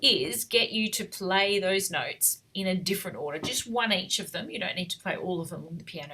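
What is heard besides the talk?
No everyday noise stands out behind the speech.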